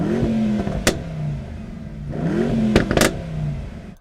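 A Mercedes-AMG E63 engine revs twice, each burst of throttle swelling and falling back, with a sharp crackle on the second rev.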